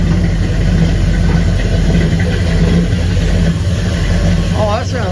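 Engine of a 1959 Ford wagon idling through a newly fitted dual exhaust, a steady low rumble throughout, with a voice speaking briefly near the end.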